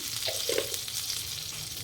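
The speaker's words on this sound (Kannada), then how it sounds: "ಇದಾದಮೇಲೆ ಸ್ವಲ್ಪ ಕರಿಬೇವು ಹಾಕ್ತಾಯಿದ್ದೀನಿ" Mustard seeds, cumin and curry leaves sizzle in hot oil, a bright crackling hiss with a few brief pops and spatters over a short moment, close and fairly quiet.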